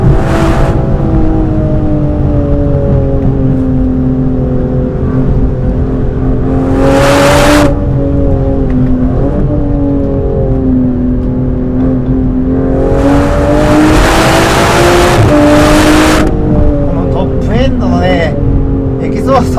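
On a winding road, a 2025 Aston Martin Vanquish engine pulls loud and steady, its pitch rising and dipping through throttle changes and downshifts, with occasional bursts of road and wind rush.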